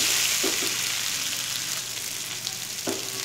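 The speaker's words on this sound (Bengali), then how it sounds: "মশলার সাথে চালটাকে একটু ভালোভাবে ফ্রাই করব" Rice frying with spices in a pan, a continuous bright sizzle with a few scraping stirs of a spoon against the pot, close and steady, no voices.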